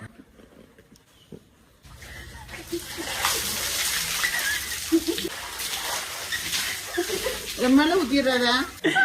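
Well water splashes and pours in repeated bursts close by, with people talking over the sound of bathing.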